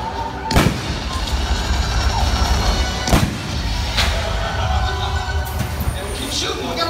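Gunfire and pyrotechnic blasts ring out during the Waterworld stunt show at Universal Studios Singapore: a few sharp, loud bangs spaced seconds apart over a constant roar of crowd and show noise.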